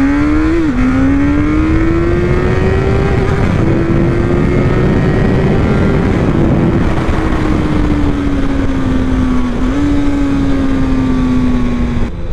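Chinese sport motorcycle with a quick shifter accelerating hard, a loud, close engine note climbing steadily through the gears with brief dips at each quick upshift.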